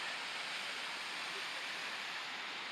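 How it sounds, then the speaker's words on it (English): A steady, broad rush of falling water roars evenly throughout, like a waterfall heard from nearby, with no other sounds standing out, on the Route of the Hiawatha rail trail near Taft, Montana. "There's a waterfall."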